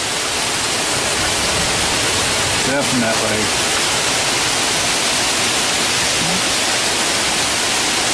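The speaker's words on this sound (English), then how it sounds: "Well, a little bit of rain for you." Heavy rain pours down over a backyard as a constant loud hiss that fills the whole scene, with a person speaking briefly over it.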